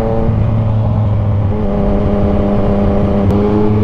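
A Yamaha Tracer 900 sports-touring motorcycle fitted with a quick shifter runs close and loud, its engine droning steadily with slight shifts in pitch as the revs change, and no voices are heard.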